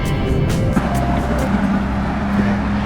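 Steady car driving noise heard from inside a vehicle on a highway in southern Thailand, a continuous low engine and road rumble with no talk.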